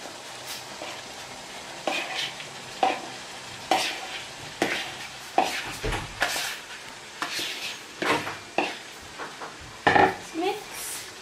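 Potato being added and stirred in a cooking pot, with repeated scraping and clattering stirs and a steady sizzle underneath, close and moderately loud.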